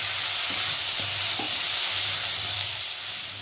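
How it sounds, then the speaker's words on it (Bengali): Boiled banana flower and potatoes are stirred and sautéed with spices in a pan, producing a continuous close sizzle with soft scraping strokes of the spoon, no voices. "মশলার সাথে আবার আলুগুলো ভালো করে নেড়ে দেবো, দিয়ে একটু সময় ধরে কষিয়ে নেব"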